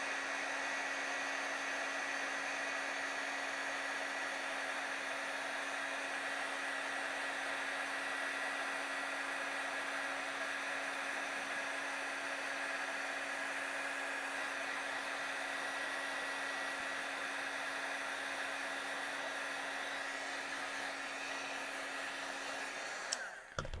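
A heat tool blows steadily for about twenty-three seconds, warming embossing on a stamped Christmas image, a loud continuous hairdryer-like whoosh with a faint hum, then stops abruptly at the end.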